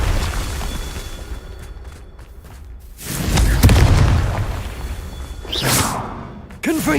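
Confringo blasting spells go off in Hogwarts Legacy: a soft whooshing opening, then a loud booming explosion with a rumbling tail, followed by another sharp burst and crackle near the end.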